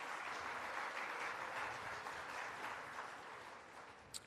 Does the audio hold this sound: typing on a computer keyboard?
no